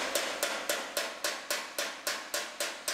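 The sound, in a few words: hammering bent dump trailer metal with hammer and dolly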